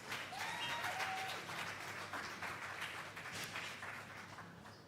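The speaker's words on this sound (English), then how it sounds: "A round of applause for him once again" Audience applause rolls steadily through a school summer concert hall, a dense sustained patter of many hands that fades slightly toward the end, with no voices over it.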